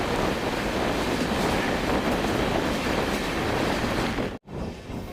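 A passenger train rushing past close alongside another moving express train, a loud, continuous roar of rolling wheels and wind buffeting that cuts off abruptly near the end before resuming.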